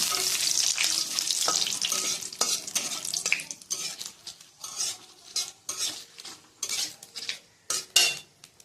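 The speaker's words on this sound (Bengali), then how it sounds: "প্রথমে দেবো জিরা, এরপরে দেবো লঙ্কা, তেজপাতা। একটু ভেজে নেব জিরাটা।" Cumin seeds, green chilli and bay leaf frying in fish oil in a pan, with a steady close sizzle at first, then broken by repeated scraping stirs and metal utensil clinks against the pan.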